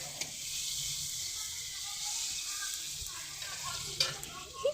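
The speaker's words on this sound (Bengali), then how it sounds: "পেঁয়াজ দিয়ে দেবো, পেঁয়াজটা দিয়ে ভালো করে একটু" Onions fry in a pan for a pangas fish curry with a soft, steady sizzling hiss and a few light clinks of utensils.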